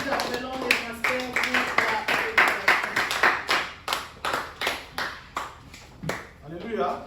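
A church congregation claps in rhythm for the Lord, a steady run of sharp hand claps over voices and cheering, with the clapping thinning into separate spaced beats toward the end.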